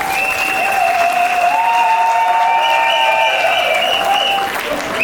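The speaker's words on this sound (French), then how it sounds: "Mesdames et messieurs, applaudissons les champions" Wedding guests at a town hall ceremony applaud the newlywed couple, a dense, even round of clapping lasting about five seconds, with sustained musical or vocal tones running over it.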